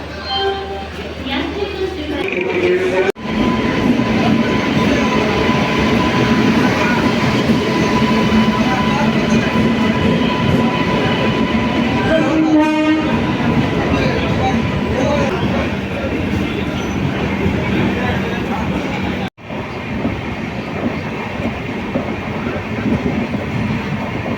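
A long-distance passenger train rolls steadily from inside the carriage, giving a loud, continuous rumble with rhythmic wheel clatter. Brief sharp drops break the noise, and a voice is heard faintly under the train.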